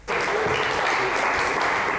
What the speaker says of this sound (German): Marius, Applaus für Marius.